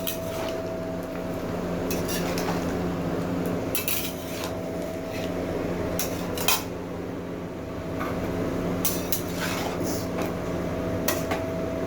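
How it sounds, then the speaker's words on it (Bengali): Tomato ketchup ingredients are mixed together in a bowl, with scattered clinks and taps of a utensil against the dish over a steady background hum. "সবগুলো উপকরণ একসাথে মিশিয়ে নেব এখন।"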